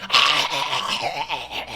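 A storyteller's voice imitates a white dog whimpering and yelping in distress: a short, close, whiny run of strained cries, with no other sounds behind it.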